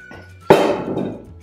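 Diced potato cubes tipped into a cauldron of goulash soup over a campfire land with one sudden heavy thunk and clatter, followed by a brief rustling tail as the pieces settle.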